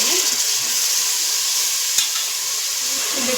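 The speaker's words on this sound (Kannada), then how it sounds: "ಈರುಳ್ಳಿ ಚೆನ್ನಾಗಿ ಫ್ರೈ ಆಗ್ತಾ ಇದೆ" Onions and tomato fry in a pan for biryani, giving a steady, close sizzle and hiss throughout, with a single stir clink partway through and no talking.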